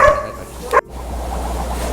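A single sharp dog bark near the start, followed by a brief yip and then a steady low background hum.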